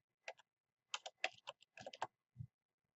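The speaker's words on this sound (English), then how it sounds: "I'm going to hit the down arrow on my keyboard again to bring me to cell A6." Keys tapped on a computer keyboard while entering spreadsheet cells, a quiet, close burst of separate clicks in an uneven rhythm with short gaps and a final softer thump.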